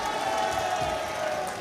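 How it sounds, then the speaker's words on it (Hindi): Applause from the crowd at a Lok Sabha 2024 campaign public meeting in Ashok Vihar, Delhi, a steady dense wash of clapping and crowd noise held at an even level throughout. "इस बात पे एक बार जोरदार ताली बजाइए।"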